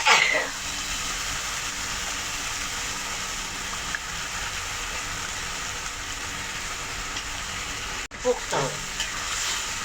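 Meat, chicken by the recipe, frying with cumin in a pan for a potato curry, a steady loud sizzle throughout, with a brief clatter near the start and a stir or scrape late on.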